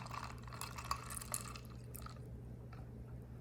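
Espresso and white chocolate mix is poured into milk for an iced white mocha, making a soft liquid trickle with faint glassy clinks that fades out toward the end.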